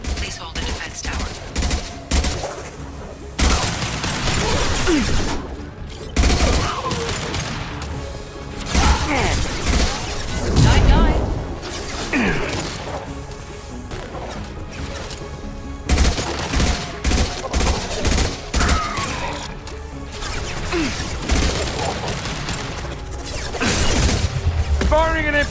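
Bursts of gunfire rattle through a Mass Effect 2 battle, rapid volleys and sharp impacts repeating in loud clusters, with voices speaking in between.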